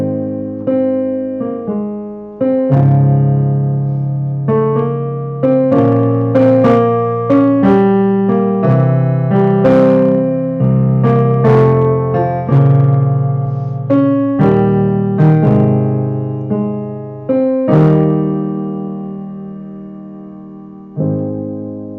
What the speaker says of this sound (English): And this melody, played by the cellos,